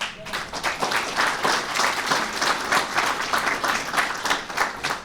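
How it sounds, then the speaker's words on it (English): An audience claps loudly and steadily at a development announcement for a facility in a Black community in Bronzeville, a dense, sustained wash of applause with no talk over it. "Somebody ought to clap for that."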